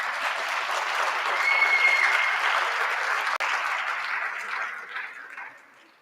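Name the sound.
students' round of applause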